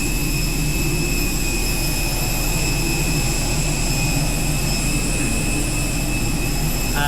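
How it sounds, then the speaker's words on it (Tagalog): Loud, steady jet engine roar heard beside an airplane's engine while boarding, with a constant high whine over deep rumbling, continuous throughout with no talking. "Medyo maingay lang dito, no? Nandito tayo ngayon sa tabi ng thruster."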